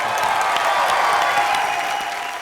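A television comedy studio audience applauds loudly and continuously, a dense, even wash of clapping throughout.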